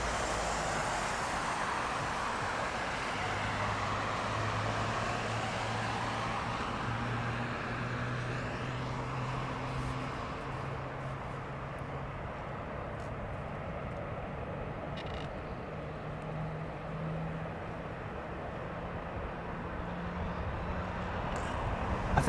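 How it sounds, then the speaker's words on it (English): An airliner at takeoff thrust in intense rain gives a broad, steady roar with a low engine drone that slowly rises in pitch, heard from a distance. "Takeoff thrust set."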